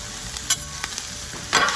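Sauerkraut warming with butter on a Blackstone griddle at medium-high heat, a steady close sizzle with a few spatula scrapes and taps as it is stirred.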